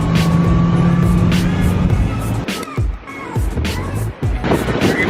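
Car engine driven flat out, loud and close, with its exhaust giving sharp crackling pops and rapid bursts between the surges of the motor.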